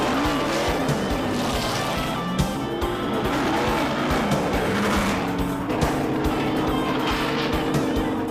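Goodwrench Chevrolet stock cars race around a track, a dense, steady roar of several engines close by with tire squeal mixed in, continuous and loud throughout.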